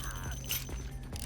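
Weapon reload in Vampire the Masquerade: Bloodlines, a quick run of metallic mechanical clicks and clacks with a short ratcheting snap, near and brief.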